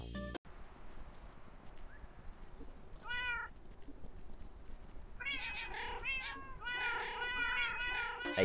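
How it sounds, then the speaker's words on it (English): Rain World slugcat creature from a game mod meowing on a dedicated button, several short cat-like meows, first a lone soft one, then a quick cluster of louder ones, over faint background ambience. "A designated meow button."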